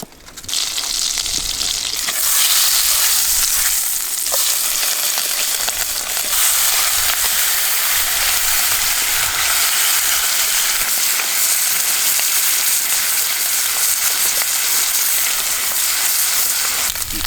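Bacon and egg sizzle steadily in a pan at a wild summer campsite in Tasmania, a loud, continuous close frying hiss with light crackle and occasional stirring, no voices.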